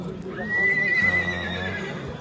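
A horse whinnies loudly in a long, high neigh at a horse market in Jany-Nookat, Kyrgyzstan, with snorting and low rumbling and people talking in the background.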